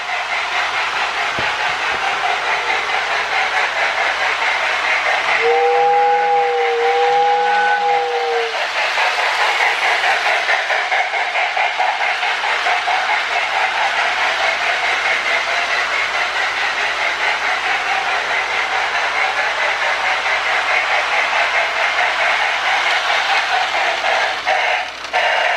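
Marx Candy Cane log toy train with a smoking 898 locomotive runs steadily on its track, a continuous close whirring rumble with a brief two-note whistle early on.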